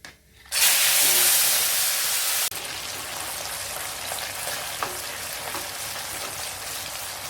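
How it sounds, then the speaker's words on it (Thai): Loud, bright sizzling bursts up as fish hits hot oil in a pan, then settles into a steady, softer frying crackle with occasional pops. "เมย์ใช้กระทะเดิมนะคะ ใส่ปลาลงไปเลยค่ะ"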